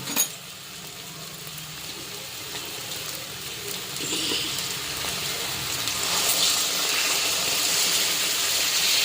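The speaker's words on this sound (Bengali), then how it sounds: "এইবারে দিয়ে দেব জল।" Water poured into a pan of frying potato and pointed gourd curry, a continuous hissing sizzle that swells and grows louder and brighter over several seconds, close by with no talk.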